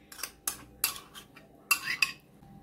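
A spoon clinks against a bowl while marinade is mixed into chicken, giving a handful of sharp, separate taps and scrapes with short pauses between them, close and moderately quiet.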